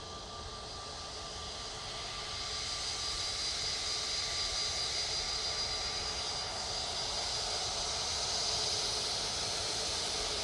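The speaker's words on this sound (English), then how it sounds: "This is 321 Neo going off to Alicante." An Airbus A321neo jet departing Manchester Airport for Alicante, a faint distant hissing engine roar with a thin high whine that swells gradually and holds steady toward the end.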